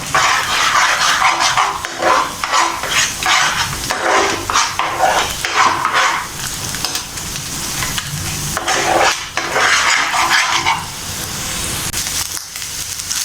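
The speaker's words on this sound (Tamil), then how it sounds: "இந்த எக்கு நல்லா ஃப்ரை ஆகிடுச்சு" Egg seasoned with turmeric and salt fries in a pan for egg fried rice, with a loud, constant sizzle and repeated scraping stirs of a spatula against the pan throughout.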